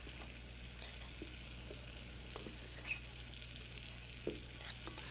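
Butter and flour roux cooking slowly in a pan, a soft steady sizzle and faint frying crackle with a few light stirring clicks, close and even throughout, no voices.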